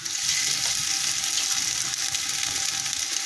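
Garlic ginger paste frying in a clay pot gives off a loud, steady, dense sizzle that holds at constant volume the whole time, with no speech over it.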